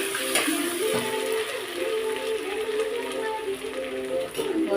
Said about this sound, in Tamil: இதெல்லாம் நல்லா எண்ணெயில் போட்டு வதக்கலாம்